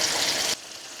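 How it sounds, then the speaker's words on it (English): Chicken pieces frying in a pan to crisp one side, a steady loud hissing sizzle that cuts off abruptly halfway to a much quieter background. "We're going to fry it on this one side until it gets a nice crisp on the one side."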